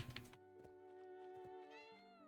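A cat meows in the life-sim video game Heartopia, a drawn-out tonal, slightly wavering call following a few soft thumps, close and clear over quiet game background with no talk.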